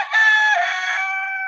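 A rooster crows once in a single sustained, loud, close call, clear and alone.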